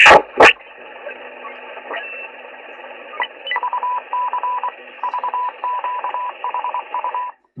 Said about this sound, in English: That, I believe, is the French Navy on 6842.